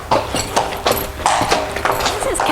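Hooves of a bay horse standing about 15-1 hands clip-clop at an irregular walking pace as it is turned around at a sale preview, the steps close and clear over ongoing talk.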